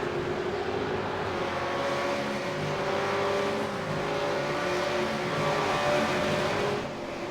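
Race car engine at the Barcelona circuit during an AOSC Super Series race, a steady droning whine with shifting pitch sustained throughout, fairly loud and close.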